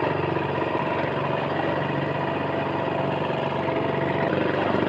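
A small fishing boat's motor drones steadily at an even pitch, continuous and fairly loud, with no voices.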